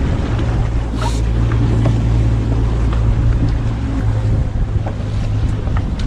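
A boat at sea with its engine running, a steady low drone beneath wind buffeting the microphone and the wash of waves, continuous and fairly loud with no talk.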